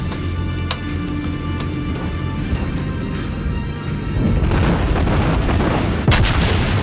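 Battleship guns firing in the naval game World of Warships, with the South Carolina in action: deep rumbling booms over continuous engine and sea noise, growing heavier partway through, with a sharp report near the end.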